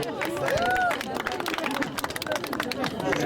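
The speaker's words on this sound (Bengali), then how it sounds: "একটা জোরে করে তালি হবে।" Applause at a cricket tournament final's award ceremony, a crowd clapping briskly and steadily at middle distance, with voices murmuring among the claps.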